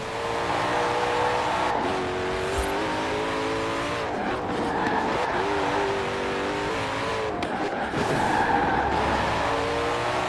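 A powerful car brakes hard and slides on a winter road, engine revving and falling in pitch while tires squeal and skid, loud and close over about ten seconds with repeated surges.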